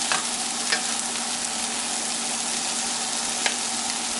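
Pre-cooked turkey stuffing mixture sizzles steadily in a pan on low heat for Thanksgiving, a dense even crackle with a few small pops and light stirring scrapes, close and continuous with no talking.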